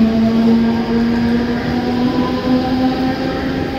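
A Mumbai suburban local train at platform 2 of Diva Junction hums and rumbles steadily at close range, a constant electric whine over the low roar of the cars.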